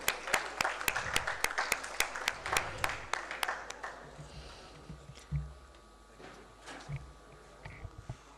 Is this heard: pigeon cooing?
no